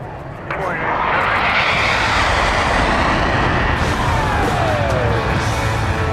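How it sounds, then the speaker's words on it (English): A MiG-17 jet roars past low and fast at an airshow, a loud broadband engine rush swelling in quickly and holding strong, with a falling pitch sweep as it passes and an announcer talking over it. "Now, coming low and fast, here is your virtual Randy Ball in the MiG-17."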